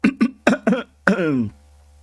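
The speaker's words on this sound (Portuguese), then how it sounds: "Ó o pigarro." Several short, harsh throat-clearing bursts in quick succession, then one longer, strained rasp, close and loud, with no talking.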